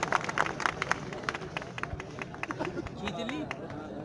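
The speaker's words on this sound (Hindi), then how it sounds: "जोरदार तालियां इनके लिए" A Republic Day parade crowd at Tata Motors Pantnagar gives applause for the float participants, scattered claps rising among chatter and crowd noise, fairly faint and mixed with voices.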